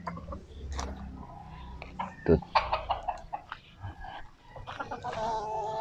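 Fighting roosters cluck and squawk at close range in short irregular bursts, with a few soft voices and handling noises mixed in.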